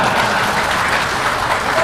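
An audience at a religious lecture held in a national police headquarters breaks into applause, a loud, thick, continuous roar of clapping hands filling the whole moment without any speech.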